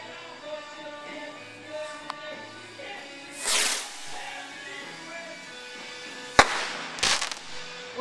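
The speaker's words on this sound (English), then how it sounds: "That was an awesome firework." Fireworks at a backyard July display: a rising hiss and whoosh, then sharp crackling pops and bangs at close range amid faint background voices.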